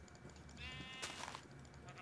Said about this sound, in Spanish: Muere oveja.